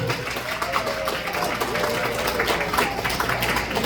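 An audience at a political New Year gathering welcomes a former lawmaker as a guest with continuous applause, a thick, steady crowd clatter filling the room, mixed with general hall noise.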